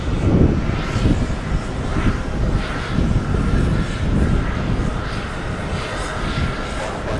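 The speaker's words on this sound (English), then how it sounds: "Got some big Deltas on their way in." An airliner near JFK airport produces a loud, sustained jet roar that fills the whole stretch, steady and broadband with slight swells.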